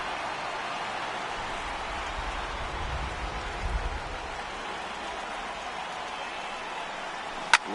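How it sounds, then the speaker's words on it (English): Steady heavy rain pours over a stadium in the baseball video game MLB The Show 18 during a playoff game, a constant broadband hiss with a low rumble swelling midway and a sharp click near the end. "Really starting to pour now, and the forecast is not showing any signs of a break in the weather."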